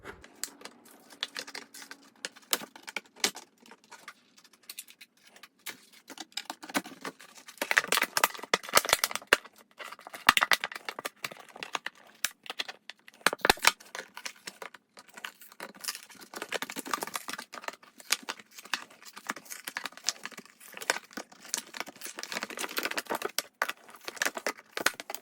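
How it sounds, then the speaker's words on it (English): Wire cutters snip and crunch through an old drum head to free the ring of a djembe, producing dense, rapid crackling and clicking bursts that run continuously and irregularly at close range. "I've got some wire cutters here. And I'm just going to get the ring out."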